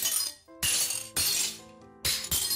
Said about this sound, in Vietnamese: Đó là tiếng chụp kính nứt vỡ.